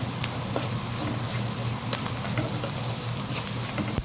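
Whole spices and masala frying together with onions in a pan, a steady dense sizzle with faint crackles and pops and no talk.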